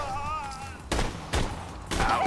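Gunfire in Borderlands 2 comes as three loud bursts about half a second apart, each a short crackling volley of shots from a gun that keeps running out of ammo.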